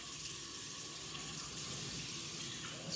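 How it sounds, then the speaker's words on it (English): Cold tap water runs steadily into a container as a red cabbage indicator solution is prepared, a constant close hiss and splash lasting the whole stretch with no speech. "So I'm going to fill my container up."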